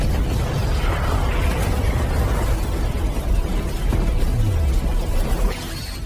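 A Dragon Ball fan-animation explosion effect gives a loud rumbling blast with crackling bursts that stays sustained for several seconds, then falls away in a closing whoosh.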